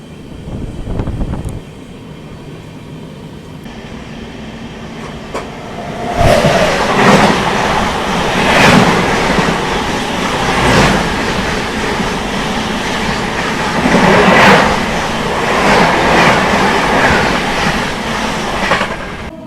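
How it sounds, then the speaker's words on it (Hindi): The Howrah–New Delhi Rajdhani Express rushes past at close range, a loud rolling rumble with rhythmic clickety-clack of wheels over rail joints, swelling and easing in waves for several seconds, no voices. "ये आ रही है 12301 हावड़ा नई दिल्ली राजधानी एक्सप्रेस।"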